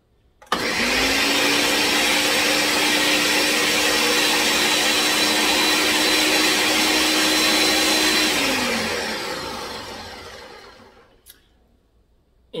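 A blender whirs loudly and steadily for several seconds while running to clean itself, then winds down and stops, leaving faint clatter.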